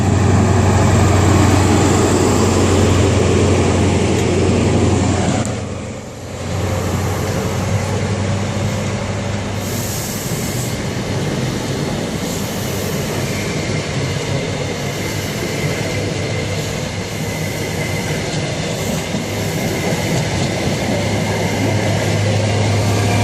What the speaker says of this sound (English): The HST going out.